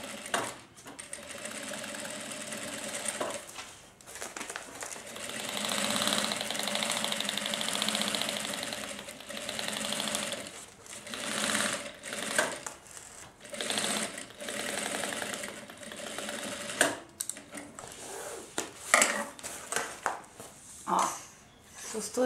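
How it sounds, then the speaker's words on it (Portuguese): A sewing machine stitches the side seams of a thermal lunch bag, its rapid mechanical whirring running in bursts of varying length with short pauses between runs, close and fairly loud. "E ó, costura pé de máquina."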